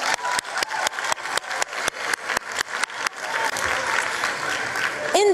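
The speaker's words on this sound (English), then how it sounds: "Another round of applause for KwaZulu Natal." Audience applause at a 2023 matric results announcement ceremony in South Africa, a loud sustained round of clapping that fades into crowd murmur and a short squeal near the end.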